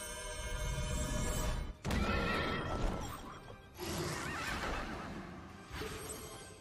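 A pony neighs in the video game Child of Light, a loud, close whinny in repeated bursts broken by short gaps, with no talk over it.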